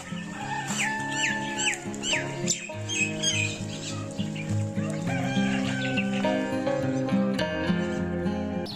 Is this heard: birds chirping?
yes